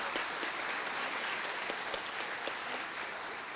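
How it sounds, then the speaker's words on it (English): Steady audience applause at a district chorus concert fills the space, dense clapping from many hands at an even level with no voices on top. "I just want to ask for another round of applause for our two solo"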